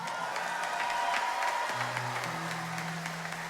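A tribute event audience keeps up steady applause throughout, with a sustained musical tone and low instrumental notes running beneath the clapping.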